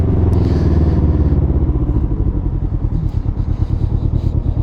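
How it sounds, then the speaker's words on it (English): A Can-Am Ryker 600 idles up close with a loud, steady, throbbing rumble and a slight shaky pulse. Nobody speaks. "I love the rumbles that the 600s have."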